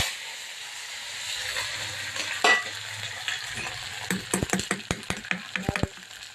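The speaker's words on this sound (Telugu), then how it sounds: "పోపులకి పోపు దినుసులు, ఎల్లిపాయ, కరివేపాకు," Dried red chillies, garlic and curry leaves spluttering in hot oil for a dal tempering, a steady sizzle building into sharp, rapid crackles and pops near the end.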